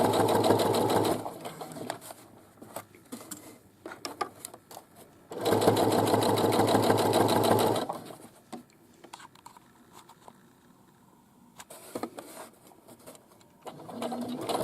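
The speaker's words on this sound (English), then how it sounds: "I'm watching that center part of my foot as I stitch" Sewing machine stitching bag straps, with loud bursts of rapid needle chatter separated by quieter stretches of fabric handling and small clicks, then a shorter burst near the end.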